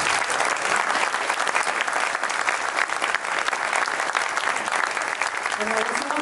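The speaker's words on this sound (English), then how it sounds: "Let's formally give them a round of applause." Applause at an Agile Singapore 2016 meetup, a loud, steady clatter of many hands clapping for several seconds, with a few faint voices rising near the end.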